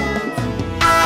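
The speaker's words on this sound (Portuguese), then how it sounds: "gatinho fofo. O gato está na caixa." A cartoon cat in a children's animated show gives one short, clear, close meow.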